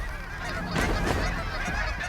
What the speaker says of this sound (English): Wow, that's a lot of birds.